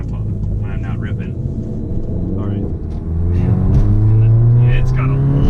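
A car with a DSG gearbox and high-torque tune, heard from inside, with a low engine rumble that swells into a louder, rising drone as it accelerates, under a voice.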